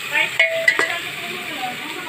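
Onion curry with ground masala, turmeric, coriander and mustard being stirred in a pan: a steady sizzle with a few sharp spoon scrapes and clinks against the metal, close and moderately loud, with no talking.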